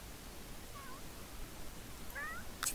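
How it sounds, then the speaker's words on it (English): A cat in The Sims 3 gives two short, faint meows, one early and another near the end, over a soft hissing background with a brief sharper noise at the very end. "Oh, look, we have a cat."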